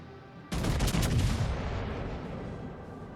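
Naval gunfire in the World of Warships game erupts suddenly as a loud, rumbling salvo of heavy cannon blasts, then decays into a long rolling boom.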